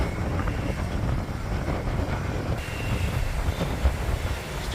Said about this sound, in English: Still bloody breezy.